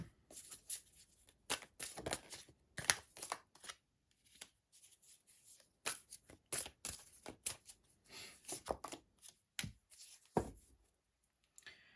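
Playing cards being shuffled and handled in quick, crisp bursts with short pauses between, close by and otherwise quiet.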